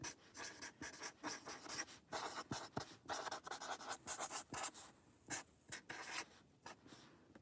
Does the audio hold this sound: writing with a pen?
yes